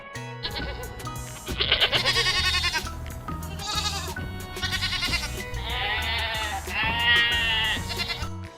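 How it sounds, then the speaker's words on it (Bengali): Goat kids bleat again and again, loud and close, with several overlapping wavering cries one after another and no talking. "ছয় ছাগল ছানা লাফিয়ে চলে"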